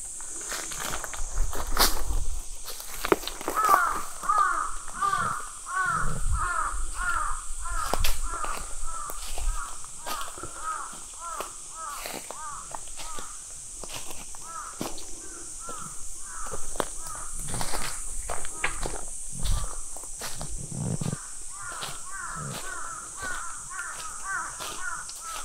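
Several crows keep up a long, fairly loud run of rhythmic caws in a forest, joined by other calls and a constant high insect drone, with occasional low rustles and thumps nearby.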